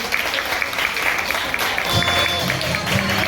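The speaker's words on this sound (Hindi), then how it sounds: "तालियां बजाइए सब।" Audience at a youth workshop with fun activities and games claps in a dense, steady patter that builds slightly toward the end, with faint voices mixed in.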